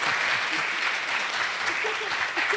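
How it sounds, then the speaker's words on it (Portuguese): An audience at an academic folk-communication event claps after a speech, a steady, moderately dense round of applause with faint voices underneath. "Primeiro, palmas para essa fala importantíssima"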